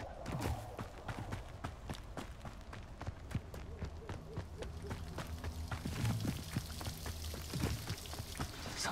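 Steady rushing, splashing water from a waterfall in the video game Hogwarts Legacy, a continuous mid-level wash with small spattering transients throughout, no voices.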